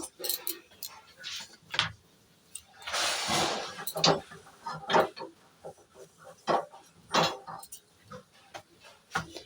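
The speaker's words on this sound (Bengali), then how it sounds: "ওদিকে আমি গ্যাসটা ধরিয়ে দিই" A kitchen gas stove clicks and catches as it is lit for frying fresh Ganges river fish: scattered sharp ticks and a brief hissing burst, with a voice speaking between them.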